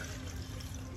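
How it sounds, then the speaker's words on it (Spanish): Water is poured into a pot of cooked tomatoes with garlic and a chile, a short steady close splashing stream lasting about a second with no talk. "Le voy a echar la agüita porque le eché ajo."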